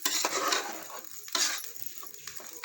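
Ground masala being stirred into a homemade chicken curry in a pot, with soft scraping and clinking spoon strokes in irregular bursts, close and moderately loud, no talk.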